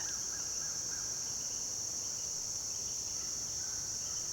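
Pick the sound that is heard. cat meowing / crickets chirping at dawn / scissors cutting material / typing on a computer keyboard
crickets chirping at dawn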